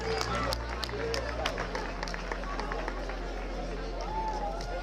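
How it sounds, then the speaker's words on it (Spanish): Audience applauding the second-placed finisher at a women's running race trophy ceremony in Estella, steady clapping and crowd hubbub under a voice over a loudspeaker throughout. "Segunda clasificada, ese fuerte aplauso."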